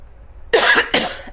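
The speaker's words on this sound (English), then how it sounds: "I'm gonna cough." A single person coughs twice in quick succession, loud and close, right after a quiet pause.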